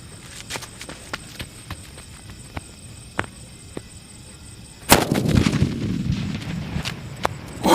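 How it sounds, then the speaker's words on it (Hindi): A Gorilla Bomb Diwali firecracker goes off in one sharp, loud blast, followed by a burst of crackling and rumbling debris, after a stretch of quieter scattered pops and taps. "अपडेट करते हैं हमारे गोरिल्ला बम का और देखते हैं ये कैसा चलता है।"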